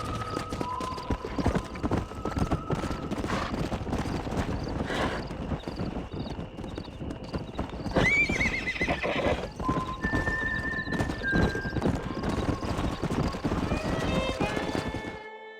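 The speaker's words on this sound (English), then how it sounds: "We got some fine horses." Horses in the Red Dead Redemption video game whinny and neigh repeatedly over clip-clopping hooves, with a rising squeal midway and layered game sounds around them, fairly close and busy.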